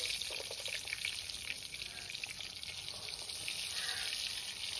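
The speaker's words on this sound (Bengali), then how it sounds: "লাল লাল করে ডিমগুলো কিন্তু আমি ভেজে নেব।" Whole eggs frying in hot oil in a kadai, a soft, continuous sizzle with a fine crackle that stays steady throughout, fairly quiet and with no voices.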